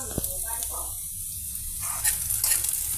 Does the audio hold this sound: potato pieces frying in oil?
yes